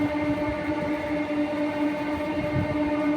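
A train rolls into Payradanga railway station in India with a steady, loud rumble of wheels and carriages, a continuous mechanical drone with no break and no voices.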